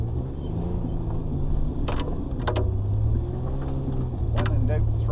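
An off-road vehicle engine working through snow, a steady low rumbling drone with shifting pitch as the throttle rises, heard up close under a person talking.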